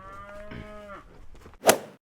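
Old cull cows mooing while being caught and penned on a farm: one drawn-out low moo, then rustling and a sudden loud, sharp bang, heard close with no talking.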